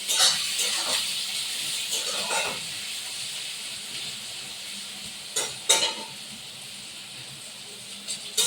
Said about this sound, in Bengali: পেঁয়াজের বেরেস্তাটা ভাজা হোক